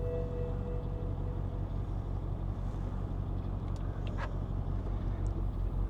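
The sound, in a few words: BMW X6 engine idling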